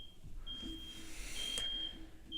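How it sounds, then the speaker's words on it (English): A smoke alarm emits a thin, high-pitched steady tone that drops in and out. It sounds faint and distant, with a quiet room underneath. "Please ignore all the smoke alarms going off."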